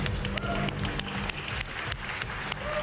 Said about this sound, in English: Oh, loud clapping